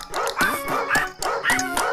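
A dog at a night campsite in Tanay, Rizal gives four short, close, excited barks with whiny yips, evenly spaced and loud.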